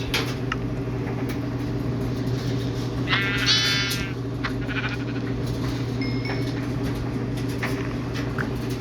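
A sheep bleats once in the Minecraft video game, a short mid-distance bleat over a steady droning background hum with faint game clicks.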